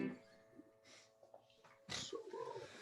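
A single short sneeze bursts out close to the mic in a quiet room, preceded by faint breathing and small rustles, with a soft tonal hum lingering in the background.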